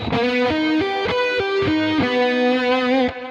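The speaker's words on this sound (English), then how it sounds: "As you can hear, augmented arpeggios also sound really cool and dissonant." Distorted electric guitar plays a quick rising and falling arpeggio, sustained notes shifting in clear steps, loud and close with a fuzzy, buzzing tone.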